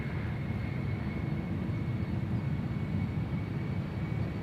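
A KLM Embraer jet departs toward Inverness on Schiphol's Polderbaan runway, a steady broadband engine roar with a faint high whine, continuous and fairly loud throughout with no voices.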